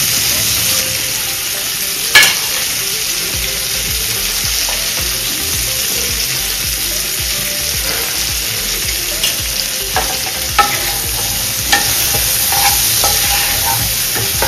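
Cauliflower florets fry with salt and turmeric in a pan, a steady dense sizzle running throughout, broken by a few sharp clinks and scrapes of stirring, near and fairly loud with no voices.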